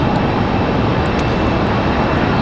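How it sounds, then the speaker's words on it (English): Embraer E190 jet airliner landing on runway 23 right at Raleigh-Durham airport, a steady, loud broadband engine roar holding evenly throughout with no talk over it. "There it is, flight coming in at 23 right."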